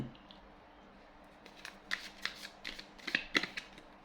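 Tarot cards shuffled and drawn during a reading: after a quiet start, a run of crisp, close papery flicks and snaps in the second half, with no talking.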